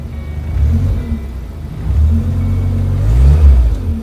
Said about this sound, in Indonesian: Suara knalpotnya pun halus.